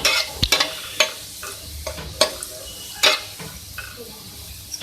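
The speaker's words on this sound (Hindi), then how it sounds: "इसको फ्राई करेंगे" Chopped garlic fries in a pan, a soft steady sizzle broken by several sharp scraping knocks of a utensil stirring against the metal.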